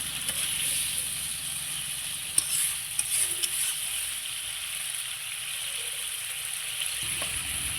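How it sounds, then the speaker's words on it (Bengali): Fried pointed gourd pieces go into a pan for a vegetarian curd-based gourd dish, giving a steady close sizzle with a few sharp clinks and stirring scrapes, no one speaking. "ভেজে রাখা পটলগুলো দিয়ে দেবো"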